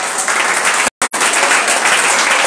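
A church congregation bursts into loud, dense applause, a close continuous roar of clapping broken only by a split-second cut.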